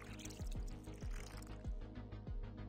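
A canister pours liquid in the horror video game Ice Scream, with a steady run of regular gulping glugs roughly every half second, soft and uninterrupted by talk.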